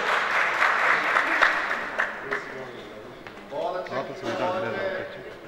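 Applause from a mushaira audience welcoming a poet onto the stage, a broad wash of clapping that swells and then thins, with voices and murmuring mixed through the crowd.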